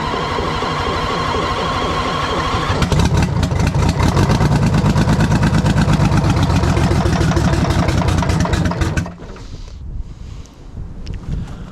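A Detroit 6V71 diesel idles after a runaway, burning off leftover fuel and oil. It makes a loud, close, steady rattling drone that swells partway through, then drops to a quieter, rougher sound near the end.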